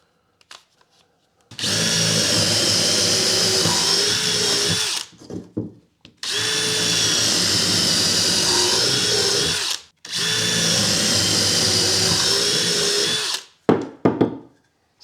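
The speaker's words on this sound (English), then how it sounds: "And I do always pre-drill, even with the timber screws" A power drill pre-drilling timber runs in three long, steady bursts of several seconds each, close and loud, with short pauses and small clatters between them.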